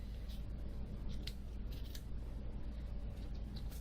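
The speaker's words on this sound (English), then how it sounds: "You just kind of round it off with your safety scissors." Safety scissors snip through paper in a quick run of soft, closely spaced cuts, up close and fairly quiet over a steady background hiss.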